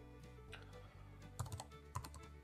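A curl command is typed on a computer keyboard on a FreeBSD system, with a few close, distinct keystrokes clustered over a steady low electrical hum.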